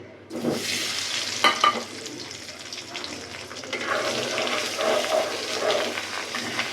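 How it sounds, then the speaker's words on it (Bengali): An egg rubbed with salt, turmeric and chilli fries in hot oil in a wok, a loud sudden sizzle that settles into a steady bubbling crackle with a few spatula scrapes, close and without talk. "তাকে সুন্দর করে আস্তে আস্তে লাল করে ভেজে নেব"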